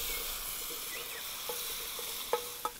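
Bacon frying in a pan over an outdoor campfire makes a soft, steady sizzle and hiss, broken by a few sharp pops and crackles near the end, with no one talking.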